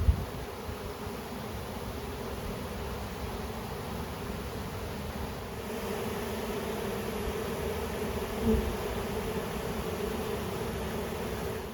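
Honeybees buzz around a beehive on a farm, forming a steady, soft swarm hum over a background hiss, close by and unbroken for the whole stretch.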